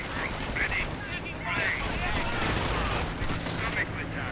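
MG42 machine gun fire in a World War II strategy video game, dense continuous gunfire and rattling bursts filling the whole stretch, with a voice talking over it.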